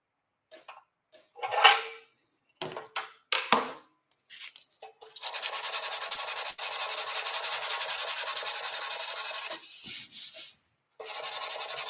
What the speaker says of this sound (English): Now you could see where the sandpaper is hitting.